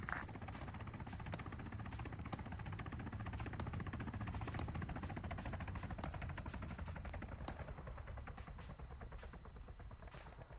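Ka-50 helicopter in Arma 3 flying over a combat zone, a steady rotor and engine drone running throughout alongside repeated gunfire bursts, no talk.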